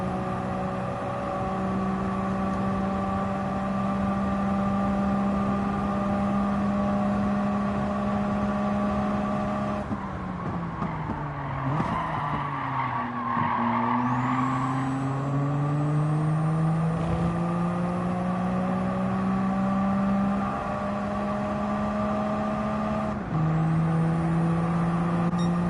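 Kei car engine drones steadily while racing in Gran Turismo 7, a sustained loud hum that shifts pitch with gear changes and a brief dip before settling again.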